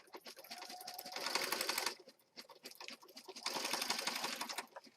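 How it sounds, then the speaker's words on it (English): Sewing machine stitching along the edge of paper pages for a handmade junk journal, two bursts of rapid mechanical needle chatter with a short pause between, close and fairly quiet. "So I'm just going to start on the edge and then sew all the way down."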